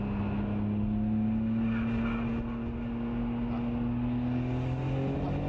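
A Nissan Skyline R34 GT-R accelerates hard in third gear, its engine note heard from inside the car as a loud, continuous droning pull whose pitch climbs steadily without a break.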